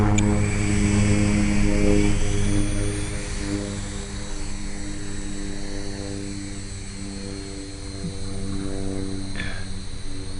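A Blade MQX quadcopter flies close by with a steady, loud whirring rotor buzz that shifts slightly in pitch partway through, with no other sounds.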